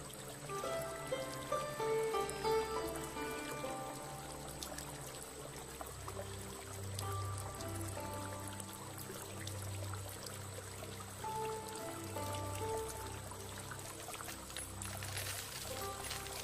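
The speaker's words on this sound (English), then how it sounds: "Let the money come into my house as quickly as I fill the vessel with water." Water pours steadily into a vessel for over fifteen seconds, a soft continuous trickle and splash heard close up, with no voice over it.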